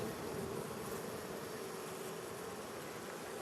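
Honey bees in a newly set up hive drone in a constant, dense buzz that stays even and unbroken throughout, fairly faint overall and with no voices.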